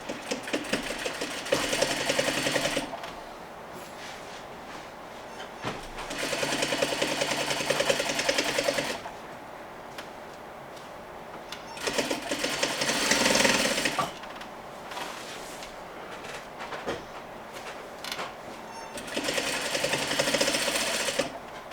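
A sewing machine stitching the skirt of a Parsons chair slip cover, running in steady whirring bursts of a few seconds each, separated by quieter pauses, close and alone with no talking.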